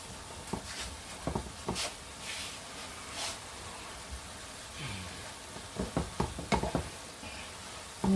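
Scallops and shrimp are stirred in a sizzling pan, with a soft, continuous fry beneath repeated knocks and scrapes of a utensil against the pan, some closely spaced in quick bursts.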